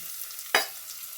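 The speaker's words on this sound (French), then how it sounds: "Là, vous versez les oignons" Onions poured into a hot pan with raisins for a spring onion and corn pulao land with a single sharp hiss at the midpoint, flaring loud and fading into a soft, steady sizzle.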